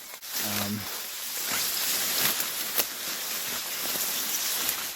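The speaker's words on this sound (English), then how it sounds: "The rain's picking up now." Rain falls on swordgrass and an umbrella during a triathlon outdoors, a steady broadband hiss with scattered droplet taps, accompanied by a brief low voice-like sound near the start.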